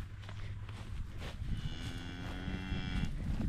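Highland cattle in a paddock give low, drawn-out moos that rise and fall over a steady outdoor background, with a faint lowing tone held toward the end.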